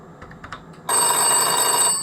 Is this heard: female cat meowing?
no